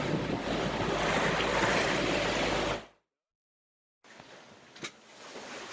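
A sailboat on a broad reach under hydrovane self-steering rushes through waves, a loud, steady wash of water and wind buffeting the microphone, cutting out briefly before quieter sea and wind return with a single splash.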